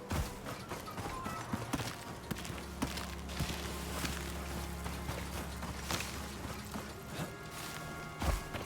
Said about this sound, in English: You can even hear my footsteps are slightly more metallic now that I'm carrying this thing around.